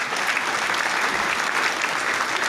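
A canned cheer sound effect of dense crowd applause, a steady unbroken clatter of many clapping hands that stays loud and even from start to finish, with no voices talking over it.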